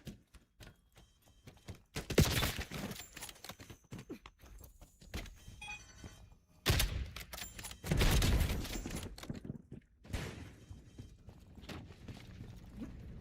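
Gunfire in the shooter Call of Duty Black Ops 7: loud bursts around two, seven to nine and ten seconds, separated by quieter game ambience.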